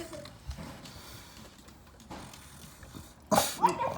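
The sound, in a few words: dog barking at raccoon on porch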